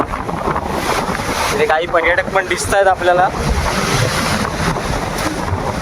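Rough monsoon sea at Harihareshwar churns as a constant loud roar of surf, with heavy wind buffeting the microphone while someone talks over it.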